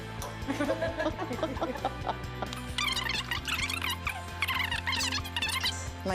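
Chickens cluck and squawk in repeated bursts at a chicken ranch, with a steady buzzing hum underneath and a busier flurry of calls toward the end.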